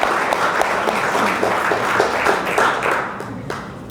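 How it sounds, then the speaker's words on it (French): An audience at a talk on nature and biodiversity claps to welcome the speaker, with brisk, dense applause that tapers off toward the end. "Et on peut applaudir donc"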